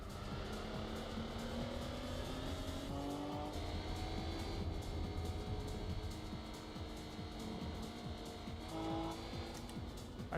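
A car with a front-mounted 2-liter V6 engine races in the video game Gran Turismo 2. The engine drone rises and falls through shifts, with tire squeal and skidding over steady, moderately loud road noise and no voices.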